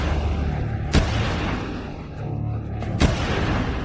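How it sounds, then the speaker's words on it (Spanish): Two sharp gunshots crack in the background of a phone call, about two seconds apart, standing out briefly over a steady low murmur of line noise. "El operador alarmado puede escuchar disparos de fondo."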